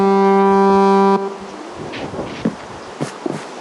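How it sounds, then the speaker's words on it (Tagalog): A goat horn in the Minecraft game sounds a loud, sustained, brassy tone for just over a second, then cuts off, leaving faint scattered clicks and rustles. "Angas ang goat horn."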